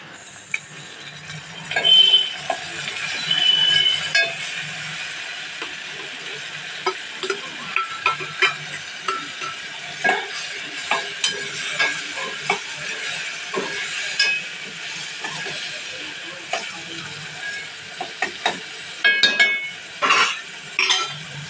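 Onions and tomatoes cook in a pan while making dosa, with a steady soft sizzle and frequent clinks and scrapes of a spoon stirring against the pan, close and moderately loud.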